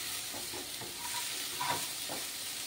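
Leafy greens (shak) frying in a pan over low heat, a quiet steady sizzle with a few soft stirring scrapes, no speech.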